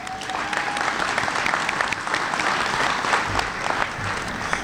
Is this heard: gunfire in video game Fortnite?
no